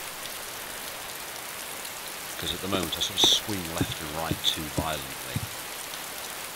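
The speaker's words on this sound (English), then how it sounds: "grass indoors and rain indoors" Steady hiss of rain falling indoors in DayZ, a soft even wash under someone speaking for most of the stretch.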